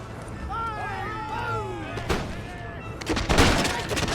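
A line of musket-armed infantry fires a volley in the strategy game Empire: Total War, a crackling burst of many shots late in the moment, preceded by quieter battlefield ambience and a faint melodic tone.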